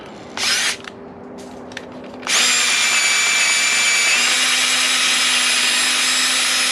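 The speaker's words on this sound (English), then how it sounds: "we need to take and drill this out with a 7/8 drill bit." A few short drill bursts lead into a loud, sustained whine as a 7/8-inch drill bit bores steadily through a PVC plug, continuing without pause to the end.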